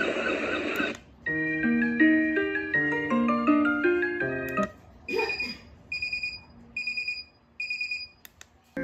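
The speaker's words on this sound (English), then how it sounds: "The device includes a choice of 7 alarm sounds." Alarm tones from an SM-01 sound machine alarm clock cycle through several choices: a loud, rising electronic melody, then a short run of repeated, evenly spaced high beeps, with brief gaps between the sounds.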